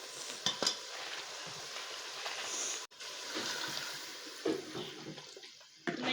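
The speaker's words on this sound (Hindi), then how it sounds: "अब इसको हम पानी लगाएंगे।" Water pours into a pressure cooker holding chana and mash dal, a steady splashing rush with a brief pause midway and a few clinks.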